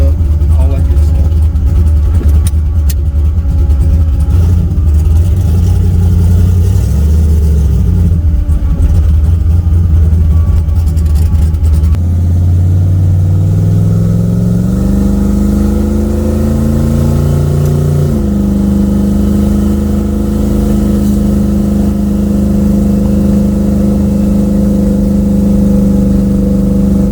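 A carbureted car engine running loud and steady while driving, its pitch climbing and settling through several revs with a rough, heavy low-end drone throughout.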